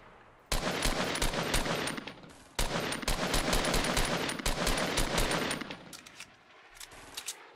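Rapid bursts of automatic gunfire in a Fortnite match as players shoot at an incoming rocket, loud sustained volleys with short breaks and a few scattered shots at the end.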